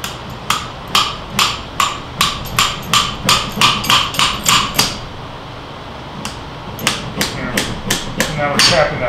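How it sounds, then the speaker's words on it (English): A hammer taps a fork seal bushing into a Suzuki V-Strom 1000 motorcycle fork in two runs of sharp, evenly spaced metallic strikes. Roughly a dozen rapid blows come first, then a short pause, then another quicker burst. "And now we're tapping that bushing in."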